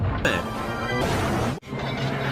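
Toy train crash in a Thomas and Friends scene: a loud sudden smash with clattering impact, followed by a second abrupt bang, over a dense rumbling background.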